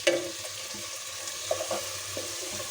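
Country chicken sizzles and fries in a pan for morog polao, a steady soft hiss with a few quiet stirring clinks and scrapes, close and low in level.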